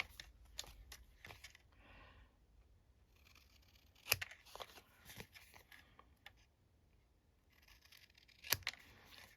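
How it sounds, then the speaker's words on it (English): Scissors snipping white edges off printed paper ephemera, a string of sharp close cuts, some isolated and some clustered, with soft paper handling and rustling between snips. "There is a bit of white there, so I'll snip that off"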